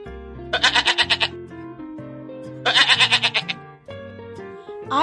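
Sheep bleating on a farm, two bursts of rapid, wavering bleats a couple of seconds apart, loud and close, with a shorter cry near the end.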